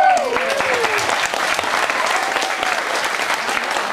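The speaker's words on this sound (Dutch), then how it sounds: "En dan hoort het hier een applaus." Applause from the audience at a miniplayback lip-sync show, a dense steady wash of clapping that fills the whole stretch, with a faint tonal sweep near the start and no talk over it.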